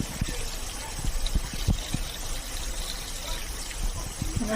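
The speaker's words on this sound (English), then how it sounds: "so I'm probably gonna put about 3 quarts of water in it" Water pours into a crock pot already holding garlic cloves for broth, a steady close trickle and splash with brief louder gushes, no talk over it.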